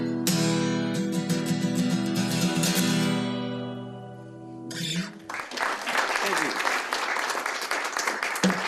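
Audience applause at a historic homecoming gathering bursts in about halfway through, loud and sustained, after an opening stretch of steady tonal sound.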